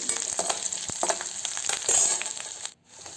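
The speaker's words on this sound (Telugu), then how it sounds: "కొద్దిగా అల్లం యాడ్ చేసుకుందాం. దాన్ని కూడా లైట్గా ఫ్రై చేపిద్దామండి." Ginger fries lightly in a pan for broken wheat pulav, a soft steady sizzle with scraping stir strokes and small clinks of the spatula, close and fairly quiet.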